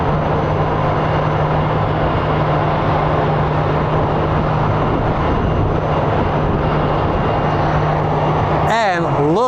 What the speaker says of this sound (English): It's our ABX Air Boeing 767 coming in from Lakeland